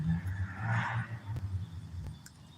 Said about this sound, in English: I could hear some of them there cars starting to do burnouts up here, Sam.